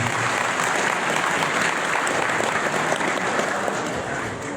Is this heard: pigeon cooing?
no